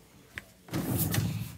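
A bedroom drawer being pulled open: a short click, then a louder sliding rumble that carries on for about a second, close by.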